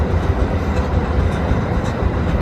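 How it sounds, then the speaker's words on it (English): A New York City subway A train rumbles past up close, a loud, steady roar with low rail rumble and faint clickety-clack throughout, no voices. "That's the A train."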